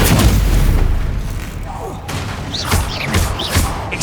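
Stupefy spell cast in the game Hogwarts Legacy, a run of booming magical impacts and bursts with sharp thuds, loud and close, under dense game combat noise.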